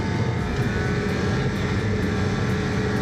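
A snowmobile engine roars at full throttle, a steady, loud, close drone that holds without a break, with no voices over it.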